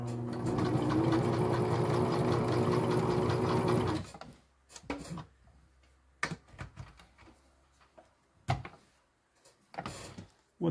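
A sewing machine runs steadily for about four seconds, stitching a seam down the middle of a homemade food and bear bag, then falls quiet apart from a few sharp clicks and handling knocks.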